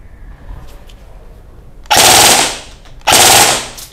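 Airsoft AEG rifle firing two rapid bursts in burst mode, each a loud, dense rattle of shots lasting about a second, separated by a short pause after a quiet lead-in.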